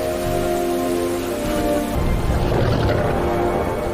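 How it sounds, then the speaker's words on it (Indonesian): Heavy rain pours down steadily around an abandoned pond, a loud dense hiss of drops that swells into a rougher, fuller downpour partway through. "Tepat di tengah hujan deras yang sedang terjadi"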